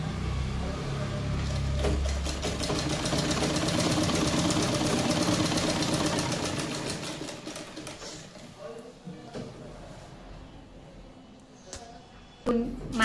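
A sewing machine runs steadily for about eight seconds, stitching a sleeve seam on a 34-inch katori blouse, then stops, leaving quieter fabric handling and a few soft knocks.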